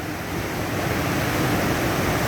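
Rushing river water at Nymph Falls, a loud, steady broadband roar of flowing and tumbling water that fills the whole stretch without letup, close to the listener.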